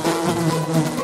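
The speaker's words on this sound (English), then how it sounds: "there's a bee right here somewhere" A single bee buzzing loudly and close by, a steady droning hum that wavers slightly in pitch as it hovers, with no voices.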